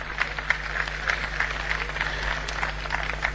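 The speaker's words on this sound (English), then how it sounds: "Let's have a big round of applause for our winners here." Steady applause from a convocation audience for award winners, a continuous patter of many hands clapping in a large hall, moderately loud and sustained throughout.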